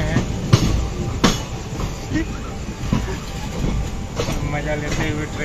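Passenger train travelling at night, heard from inside a carriage: steady rumble with clacks over rail joints and a few sharp knocks, with people talking faintly.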